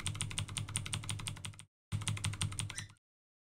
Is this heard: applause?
no